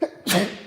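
One quick sneeze during a commentary on the horror film Hush: a short sharp burst right after a brief inhale, close and fairly loud, with no talk over it.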